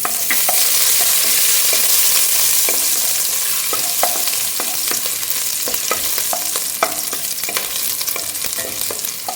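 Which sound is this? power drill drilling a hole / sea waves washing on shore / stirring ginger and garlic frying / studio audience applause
stirring ginger and garlic frying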